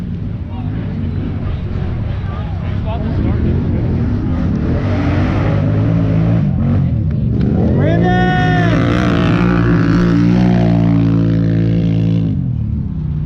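Pro 4x4 off-road race vehicle at a GNCC race at Mountaineer, its engine droning loudly before revving up and sweeping past close by with a rising then falling pitch, steady engine noise in the background.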